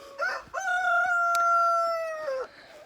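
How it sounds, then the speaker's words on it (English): A farm rooster crows once in a long, clear cock-a-doodle-doo, loud and close, drawn out over about two seconds before trailing off. "Mr. Rooster is not happy."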